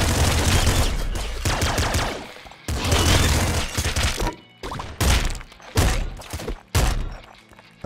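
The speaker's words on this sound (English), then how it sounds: "A heavy machine gun." A heavy machine gun firing in the game Nuclear Throne, dense loud bursts of rapid gunfire that cut off and restart in shorter volleys, mixed with thuds and impacts and no talking.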